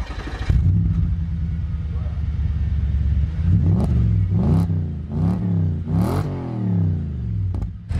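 Newly bought car starting up and idling with a deep rumble, then a string of sharp throttle blips rising and falling, loud and close, with some talk around it.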